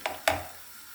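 Mashed potatoes dropped onto fried tomato paste in a pan, two soft, close thuds a fraction of a second apart, then quiet.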